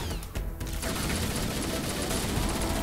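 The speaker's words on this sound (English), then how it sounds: "Explosions." Continuous rumbling blasts and crackling gunfire roll on without a break, loud and dense, like a heavy battle in Halo 1.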